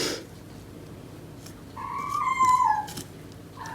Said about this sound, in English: Do you mind not making so much noise, cats?